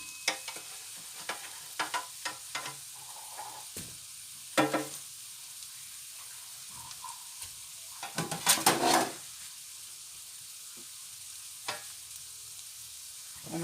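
Onions sautéing in a pan give a soft, steady sizzle at close range, broken by scattered knocks and scrapes of a utensil and a louder clattering burst midway, with no one speaking.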